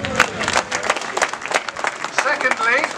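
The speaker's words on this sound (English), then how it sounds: "Give yourself a round of applause." Crowd at a charity motorcycle ride claps and cheers, a burst of scattered applause with whoops and voices mixed through it, fairly close and lively throughout.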